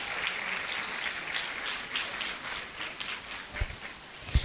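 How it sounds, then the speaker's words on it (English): Audience at a university white coat ceremony applauding steadily, a moderate, even wash of clapping from a sizeable hall with a few sharper bumps toward the end. "let's applaud them whilst they take their seats"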